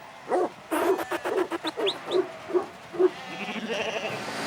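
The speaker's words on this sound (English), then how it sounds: "Inside, the first sheep is hitting the floor." Sheep bleat repeatedly inside a shearing shed, a series of short, fairly close calls with higher chirps in between against a busy background.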